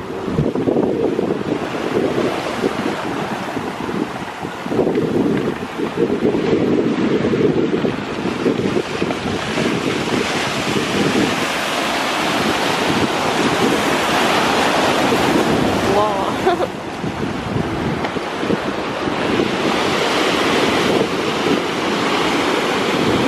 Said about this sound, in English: We're all riding the waves.